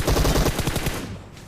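Rapid automatic gunfire in BGMI, a dense burst of loud shots fired at a vehicle that stops after about a second, leaving a fading tail.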